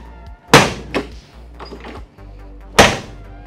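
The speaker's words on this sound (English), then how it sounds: "Yeah, the doors don't close right." The door of a 1968 Chevrolet C10 pickup, a door that doesn't close right, shuts with two loud metallic slams seconds apart, a lighter clunk following the first, over a low engine-like hum.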